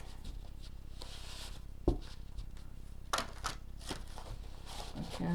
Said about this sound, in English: I bought this deck a while ago, and I find I love working with it, but to shuffle it is a bit hard.